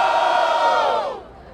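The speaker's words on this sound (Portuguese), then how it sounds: "Barulho para as rimas do Refel!" Crowd at a Brazilian freestyle rap battle in Barueri, São Paulo, cheers and shouts loudly and continuously, then fades down slightly at the end.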